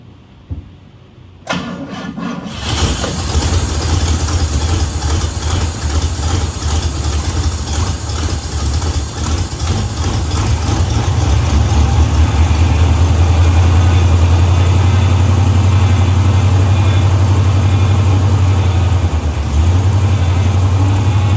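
An old car engine, left parked for 30 years, cranks and catches, then settles into a loud, steady idle that grows stronger and smoother as it runs, with a low rumble throughout and no talking.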